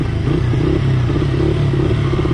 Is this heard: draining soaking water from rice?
no